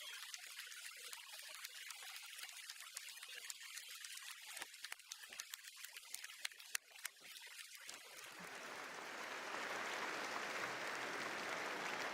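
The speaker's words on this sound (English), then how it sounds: "Join me in a huge round of applause to all of our new graduates in the Faculty of Science." Applause for new Faculty of Science graduates at a university graduation ceremony, a steady wash of many hands clapping that rises and fills out toward the end, with no talk over it.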